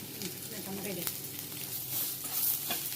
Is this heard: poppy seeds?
yes